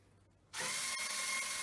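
A power driver tightens screws into wall plugs for a fixed TV wall mount, starting abruptly after a quiet moment and then whirring steadily and close.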